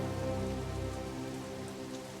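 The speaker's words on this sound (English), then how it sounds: "It must rain here quite frequently" Steady rain falls over a northern setting in the fantasy adventure game The Dark Eye: Chains of Satinav, a continuous even patter with a low tonal music bed underneath and no voices.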